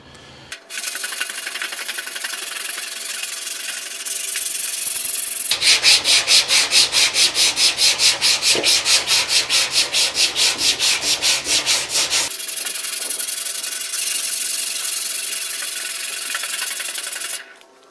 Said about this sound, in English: we've got that main section sanded with the bigger sweep, and now we've moved on to a smaller diameter sweep to do the wheel arch